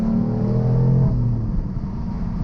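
A 2015 BMW M3 in Sport Plus mode pulls hard with a deep engine drone heard from inside the car, loud and close, with the pitch climbing before a shift and then easing.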